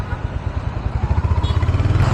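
A 2025 Royal Enfield Hunter 350, a 350 cc single-cylinder motorcycle, is heard while being ridden, its engine thumping in a steady rapid low rhythm, close and fairly loud, with wind noise over it.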